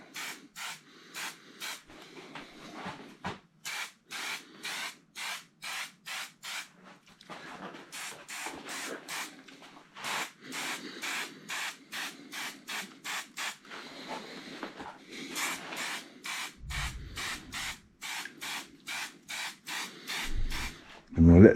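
A spray gun lays the final coat of paint on a BSA A10 plunger motorcycle frame in short, repeated hissing bursts with brief gaps between them, fairly close, under quiet talk.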